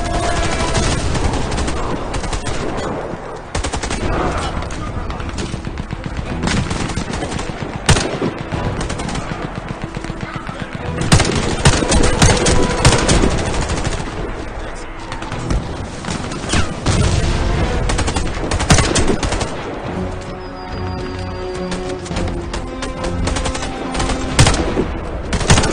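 Sustained machine gun fire from a heavy gunner enemy in a military shooter game, dense, continuous bursts of rapid shots with booming impacts, loud and unbroken throughout.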